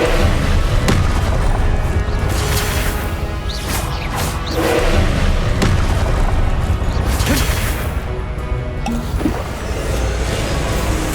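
Spell blasts in Hogwarts Legacy combat, loud booming explosions and whooshes in a dense continuous game mix with shouted spell incantations over them.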